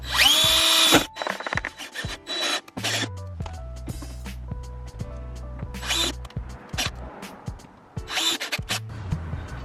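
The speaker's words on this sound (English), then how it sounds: "I'm just going to go straight and drill my pilot hole" A power drill whines in short bursts as it bores a pilot hole for a mud flap on a Ford Fiesta ST, stopping and restarting, with handling clicks between runs.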